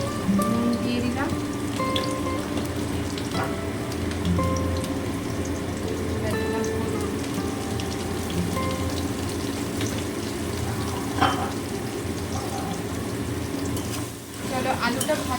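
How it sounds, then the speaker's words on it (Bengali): Potato pieces frying in oil with salt in a home kitchen while making rajma, a steady crackling, rain-like sizzle that runs throughout at moderate level with a few brief clinks. "চলো আলুটা ভাজা হয়ে যাচ্ছে।"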